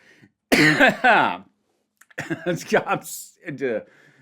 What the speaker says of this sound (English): I'm coughing because I don't know what to do with this anymore.